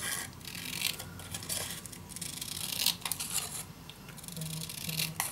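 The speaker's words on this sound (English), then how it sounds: "Now I have this shape, and I'm gonna cut these pieces." Paper shapes for a Graphic 45 Mother Goose scrapbook mini album being cut with scissors, heard as repeated close snips and crisp rustling of paper in uneven bursts, with no speech.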